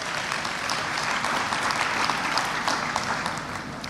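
Applause from the audience at a university fall convocation, steady dense clapping heard at moderate distance for a few seconds, without talk.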